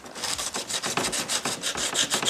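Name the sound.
sanding plastic with 80 grit sandpaper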